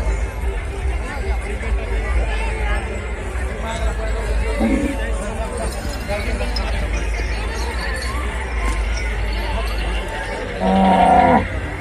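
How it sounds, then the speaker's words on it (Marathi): A Deoni cow at the livestock show of the Malegaon fair, with a loud near moo near the end over a steady crowd babble and chatter, and a shorter lowing call earlier. "मित्रांनो सुंदर असा देवणी गाय आलेला आहे."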